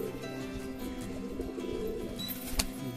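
Pigeons, a pair of Kaldum birds kept by a fancier, coo in soft, steady low murmurs with a brief sharp noise near the end, no talking heard.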